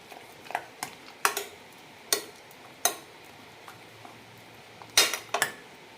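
Cooked radish and lentils are mashed in a metal pot, giving a series of sharp, separate clinks and knocks of a utensil against the pot with quiet gaps between them.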